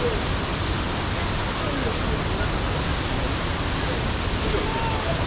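Steady, broadband rush of a waterfall pouring down on Jeju Island, loud and continuous throughout with no breaks, like close-up falling water.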